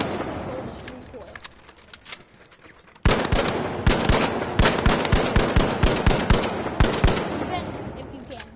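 Automatic weapon fire in the shooter game The Finals: a quieter stretch of scattered shots, then loud, rapid sustained bursts from about three seconds on, close and continuous with brief gaps.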